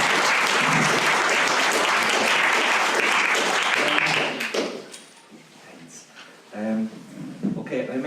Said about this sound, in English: So if you give him a wee round of applause,